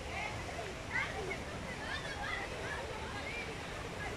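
Water pours steadily from an outdoor shower beside a swimming pool, a continuous close hiss and splash that runs the whole time, with faint voices in the background.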